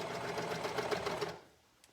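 A sewing machine runs in a fast, steady rattling burst while stitching a pair of shorts, close and clear, then stops abruptly, leaving quiet.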